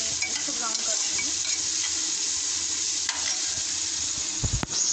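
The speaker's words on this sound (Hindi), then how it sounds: "इसमें प्याज डालनी होगी, जो मैंने रफी चॉप की है, तो मैं इसको ब्राउन कर दूँगी" Roughly chopped onions sizzle steadily in a hot pan as they brown, a constant bright frying hiss with occasional stirring scrapes and a clink near the end.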